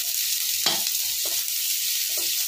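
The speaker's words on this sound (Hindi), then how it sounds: "चलिए अब हम इसमें डाल देते हैं ये बारीक कटा हुआ प्याज, और इसको भी हम अच्छे से भून लेंगे।" Finely chopped onion fries in a pan with a steady bright sizzle and a few short stirring scrapes, close and alone with no talking.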